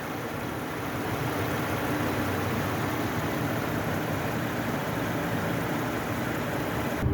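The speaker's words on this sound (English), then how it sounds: "Okay, with the motor running" A 2018 GMC pickup with a 3.5 Ecotec engine idling, a steady, even rumble with a broad hiss on top, held constant and fairly close for several seconds, with no speech.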